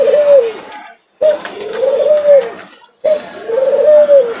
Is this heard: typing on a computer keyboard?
no